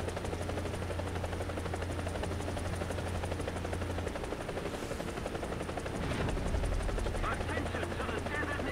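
Bell UH-1 Huey helicopter in War Thunder, a steady loud rotor thump and turbine drone running the whole time, with brief gunfire-like bursts near the end.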